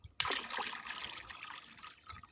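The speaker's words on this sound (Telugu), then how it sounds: "ఇంకా అయితే ఇప్పుడు నేను నీళ్ళు ఇస్తానండి" Water pours from a 10-litre bucket onto garden plants in a short, faint splash and trickle that fades after a moment, with no talking.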